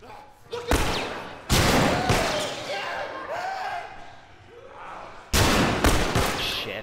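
An accidental pistol shot in The Last of Us Remastered rings out as a sharp, loud report, followed later by a second heavy burst, with ambient game noise and a voice talking around it.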